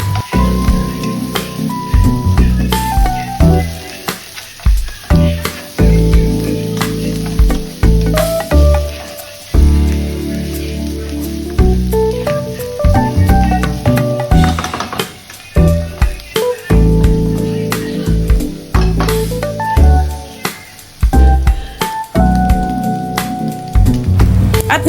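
Softened beef dropped into a pan of frying ginger, garlic and onion, a loud, steady sizzle with crackling bursts and stirring clatter running throughout, no voices.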